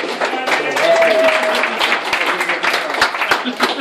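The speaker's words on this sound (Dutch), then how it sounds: "En een hartelijk applaus voor wethouder Pieter van Woensel" A crowd at the opening of a parking garage gives close, lively applause for a city alderman, with distinct individual claps and some voices mixed in.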